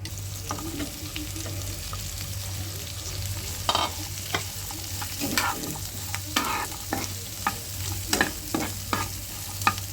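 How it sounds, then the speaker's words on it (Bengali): Vegetables for chicken chilli frying in a pan over low heat, a soft continuous sizzle broken by repeated scraping and clattering strokes of stirring, close by and without voices. "এগুলো আমি কিছুক্ষণ সবজিগুলো ভেজে নেব।"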